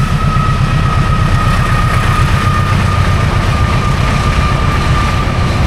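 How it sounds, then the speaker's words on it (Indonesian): A long train passes close by, a loud, steady rumble of rolling wagons with a faint ringing tone running through all of it. No one speaks. "Bentar, ada kereta."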